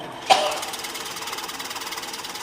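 A drill bores a depth hole into wood on a lathe in a woodturning demonstration, starting with a sharp bite, then settling into a steady, rhythmic whirring hum that stays close and even.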